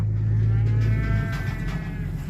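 Cattle moo loudly and close, one long low bellow that holds steady for the full length of the clip, with farmyard background noise underneath.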